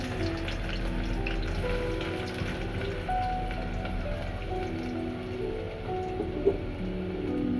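Onions frying in a pan for an ilish fish and taro curry, a soft, even crackling sizzle like light rain, fairly quiet and steady with one small clink.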